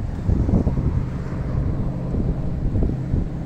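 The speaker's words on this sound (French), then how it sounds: "il y a du vent" Gusty wind buffets the microphone on a dusty road near Dawson Creek, British Columbia, producing a loud, uneven low rumble with repeated bursts throughout.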